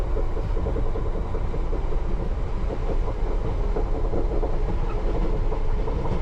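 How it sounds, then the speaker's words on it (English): A London Underground train runs at night between Acton Town and Rayners Lane, its wheels carrying slight flats rumbling and rattling through a right-hand bend, giving a steady loud rolling noise with faint rhythmic clicks in the cab. "Sounds like the train's got very slight flats when you go down around the right hand bend"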